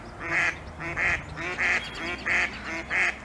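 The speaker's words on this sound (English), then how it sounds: "something in the sound of a duck's quack made it unique" A duck quacks repeatedly in a regular rhythm, about five nasal calls spaced evenly, fairly close and clear.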